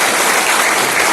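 A crowd at a political party workers' gathering ahead of a municipal election breaks into loud, dense applause, a short, continuous roar of clapping with no voices on top.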